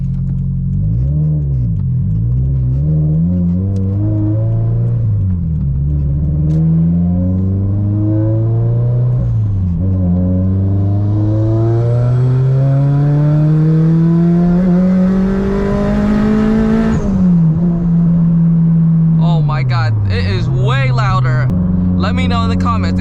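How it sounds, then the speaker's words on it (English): A turbocharged Subaru BRZ engine revs hard and close, its pitch sweeping up repeatedly with brief dips between pulls. A rising turbo spool whine sits above the engine drone midway, followed by sharp high-pitched chirps near the end. "You can hear the turbo spool up pretty well now."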